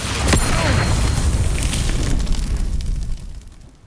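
A booming blast from the Confringo spell in the Hogwarts Legacy video game: a sharp, loud burst near the start swells into a broad roaring rumble that holds steady and then fades away toward the end.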